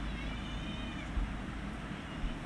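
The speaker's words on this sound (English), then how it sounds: "If you hear a bunch of meow," Several cats meow in a house, their faint high cries drifting over a steady background hum without any talk.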